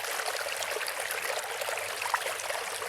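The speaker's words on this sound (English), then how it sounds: "when hearing the sound of water flowing" Water flows steadily in a fountain at Tsz Shan Monastery, a continuous bright trickling and splashing with no pauses, close and even in loudness.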